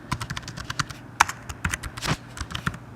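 Rapid clicking keystrokes on a Mac computer keyboard while entering a C program in Terminal, a fast irregular patter of close taps with one sharper press standing out.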